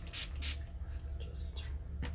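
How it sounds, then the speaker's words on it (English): Short hissing bursts from a spray bottle wetting a makeup beauty sponge and face, several quick puffs in a row, close and fairly soft. "Just wet the crap out of it with my spray and spray everything else while I'm at it."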